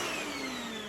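Cordless Milwaukee M18 vacuum running steadily, a continuous close whine with a high motor tone, loud and unbroken with no voices.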